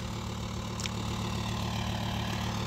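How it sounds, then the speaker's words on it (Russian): A Volkswagen T5 van's engine idles steadily near a salty lakeshore, a close, even low hum with a faint mechanical drone running throughout and no voices. "Т5 завел, запустил мотор"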